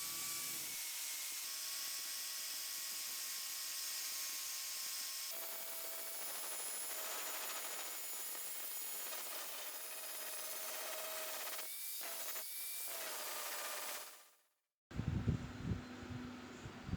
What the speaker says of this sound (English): I started to grind it with the sandpaper down to 40 grit, but I had to switch to the grinding disc since the rust was too deep.